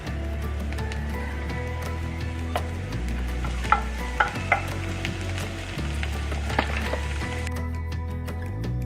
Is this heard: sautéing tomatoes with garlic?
yes